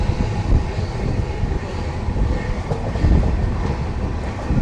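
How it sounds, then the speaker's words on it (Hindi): Amritsar–Bikaner Superfast Express rolling at speed, a steady loud rumble of wheels on rails with faint clickety-clack running through the whole stretch, heard from on board. "बहुत ही अच्छी रफ्तार के साथ चल रही है हमारी ट्रेन।"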